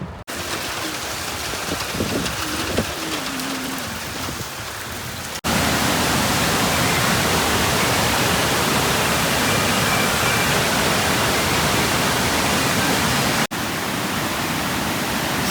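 A fast-flowing stream rushes past, its broadband roar steady, loud and close. The sound changes abruptly midway, growing fuller and brighter as if nearer the water, with no voices heard.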